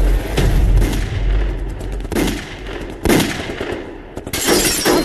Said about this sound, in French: Il y a une fusillade, dépêche-toi.